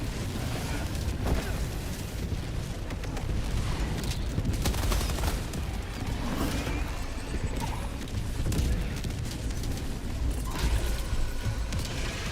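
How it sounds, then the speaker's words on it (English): Orbital barrage strike in Helldivers 2, a sustained roar of repeated explosive impacts and rumbling blasts that carries on without a break, loud and dense throughout with no clear gaps between hits. "Requesting orbital. Firing orbital barrage."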